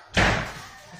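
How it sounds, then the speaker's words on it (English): A door slams shut in a home, one loud, close impact with a short ringing tail that fades over about a second. "Now slamming doors is too much."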